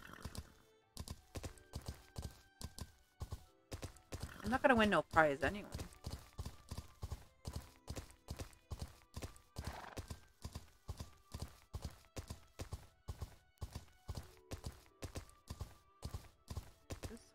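Steady clip-clop of a horse's hooves in the EverDream Valley video game, a brisk regular gait with a short whinny partway through, while a player talks over it.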